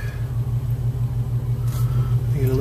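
Car traffic passes on a street in Iguala, Mexico, heard as a loud, steady low engine rumble from nearby vehicles, with a brief swell of another engine near the end.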